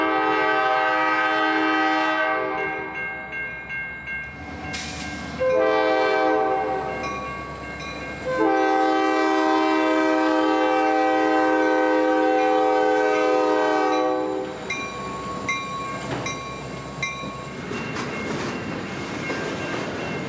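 A Norfolk Southern transfer train approaches the North Liberty Street grade crossing, blowing several long, loud horn blasts back to back, then rumbling and clattering past up close.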